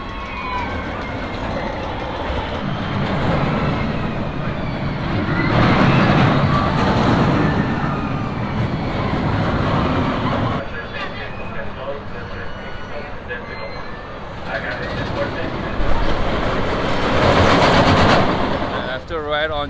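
Riding the old Schwarzkopf Shockwave roller coaster at Magic Mountain: a loud, continuous roar and rattle of the train on track with surges and bumps, wind buffeting, and riders talking and shouting over it.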